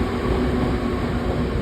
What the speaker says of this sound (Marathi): तर आता आपल्याला आहे ट्रेन CST ला सुटणारी ट्रेन आहे.